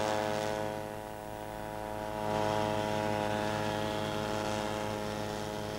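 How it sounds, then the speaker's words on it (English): A light aircraft engine, a microlight, idles steadily on a runway before takeoff, giving a droning, harmonic hum that swells slightly midway and holds at moderate loudness throughout, with no voices. "Caution, there is an aircraft about to take off on runway 11."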